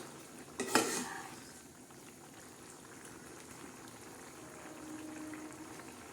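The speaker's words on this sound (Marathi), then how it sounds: "हे आपल्या छान अशा मस्त शेंगा या शिजत आहे" Drumsticks simmering in moong dal in a pot, a faint steady bubbling after a brief clatter of a lid or utensil near the start.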